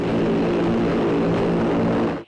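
U.S. Air Force AC-130 gunship propellers producing a loud, steady droning roar with a layered harmonic hum, close and continuous, cutting off abruptly at the end.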